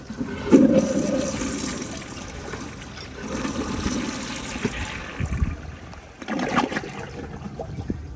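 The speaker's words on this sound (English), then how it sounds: "here's another flush. This time I'm just gonna push and release the handle." A 2001 Kohler Tyrrell service sink flushing after its handle is pushed and released, with a surging rush of water, a steady gurgling drain, then a second swell of flow near the end.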